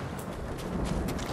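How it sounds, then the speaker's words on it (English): Horse galloping in the video game Ghost of Tsushima, a steady stream of soft hoof clip-clops under a busy wash of game ambience, moderately quiet and continuous. "But call the horse."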